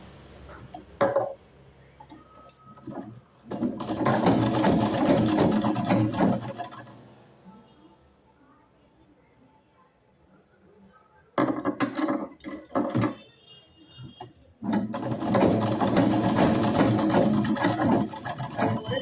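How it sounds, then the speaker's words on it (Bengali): A sewing machine stitches folded fabric corners for a sleeve design, running in three sustained whirring bursts, close and steady, separated by quiet pauses. "সবগুলো আমি এমন করে 3 কোনা করে আমি সবগুলোই সেলাই করে নেব।"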